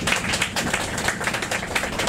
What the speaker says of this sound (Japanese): その後に大きな拍手をお願いいたします。